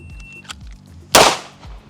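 A single loud, sharp gunshot cracks at an outdoor shooting range during a timed practice drill, standing out against low rumbling background noise in a short burst.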